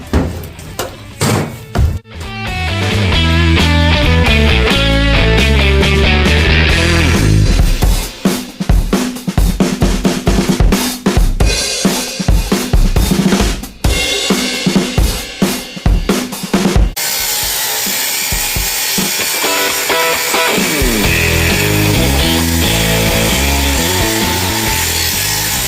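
A power grinder runs during car hauler loading-light wiring work, its loud whining drone rising and cutting out in choppy bursts before settling into a steady harsh hiss.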